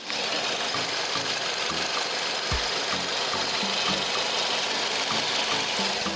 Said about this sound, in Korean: 마지막으로 네 보여드릴 부분 바로 엔진 소리죠 한번 들려드릴게요